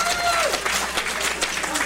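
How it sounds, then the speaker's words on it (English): An audience at a roast show applauds with a loud, dense wash of clapping that keeps up for the whole stretch while a voice speaks over it. "Nice round of applause"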